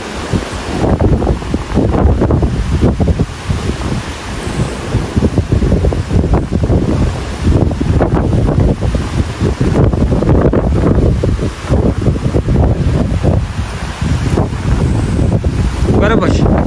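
Strong outdoor wind roars loudly and continuously against the microphone, a dense rushing buffet that barely lets up over the whole stretch.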